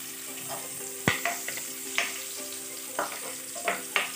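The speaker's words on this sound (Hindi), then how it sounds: "एकदम धीमी आँच में इसको फ्राई करना है" Raisins fry on a very low flame for sweet zarda rice, with a soft sizzle and a few sharp spoon clinks against the pan.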